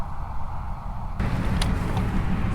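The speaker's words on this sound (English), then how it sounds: "I watch the cars go past." Road traffic passing nearby, a steady low rumble that swells louder as cars go by during a first drone flight, with no talking.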